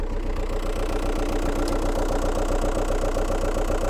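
A Volkswagen Touran diesel engine idles steadily with a low, even rumble and rhythmic knocking, close by and continuous, with no talking.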